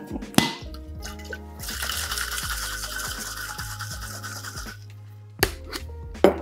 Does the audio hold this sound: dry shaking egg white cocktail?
yes